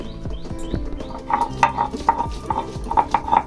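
Onion being ground into a paste by hand, heard as close, repeated scraping and knocking strokes with sharp clinks, in an irregular rhythm that grows brighter toward the end, with no speech.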